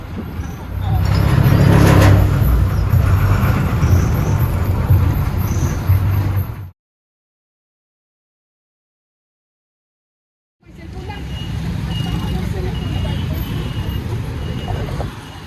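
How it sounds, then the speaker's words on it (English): Road traffic at the South Bus Terminal in the Philippines, a steady rumble of cars, buses and engines that cuts out completely for a few seconds and then returns at a similar level, with voices mixed into the noise. "made it to the South Bus Terminal"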